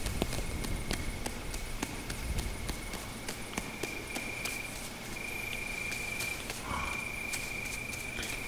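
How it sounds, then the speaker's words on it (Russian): Crickets trilling at night in the game Ghost of a Tale, a steady high-pitched chirping that runs throughout, with light rhythmic clicking footsteps underneath. "Прикольно, по ночам сверчки поют."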